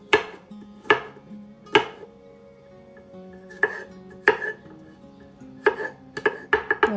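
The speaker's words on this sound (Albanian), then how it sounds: "do të grijmë 2 thelpi hudhër" A knife chops garlic cloves on a board in sharp, separate knocks, a few slow strikes at first and then a quicker cluster, close and clear with no talk.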